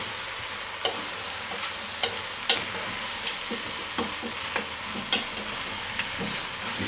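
Potatoes frying in a pan for tartiflette, stirred with a utensil: a steady broadband sizzle with scattered scraping clicks from the spoon, close and fairly loud, no talking.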